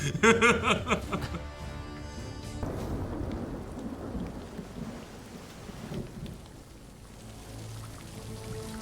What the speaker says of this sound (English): It's a heck of a storm.